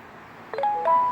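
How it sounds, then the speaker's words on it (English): A garage door monitor chimes after the door closes, giving a short bright electronic ding with two quick tonal beeps, clear and close over a quiet room hum. "And then you heard the ding."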